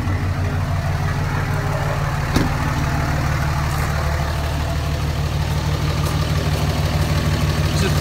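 A Cummins diesel truck engine idles steadily up close, running on a methanol pump kit with the grid heater deleted, its low rumble constant throughout, with one brief sharp knock partway in.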